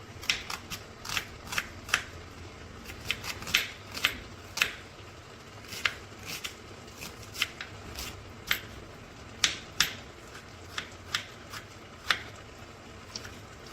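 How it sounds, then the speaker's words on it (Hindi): A knife chopping onions and tomatoes on a board, with a steady run of crisp, separate cuts at an uneven rhythm, close but fairly quiet. "प्याज और टमाटर को इस तरह से काट लेना है"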